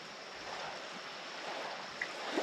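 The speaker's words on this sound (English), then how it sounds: "I'm just enjoying listening to the waves." Small waves lap steadily at the shore of North Lake in the Adirondacks, a soft, even wash of water that runs unbroken and faint from start to end.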